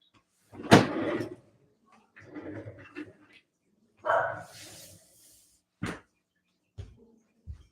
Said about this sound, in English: He's barking at some imaginary person outside